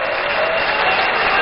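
A hall audience gives a round of applause at a meeting with organised labour representatives in a university great hall, a loud, steady wash of many hands clapping without a break.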